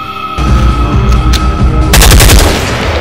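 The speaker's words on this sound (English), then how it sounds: "You were shot by the spiritual bullet." Gunfire rings out as a loud, dense burst of rapid shots that swells into a heavier crackling volley, close and alone with no talking over it.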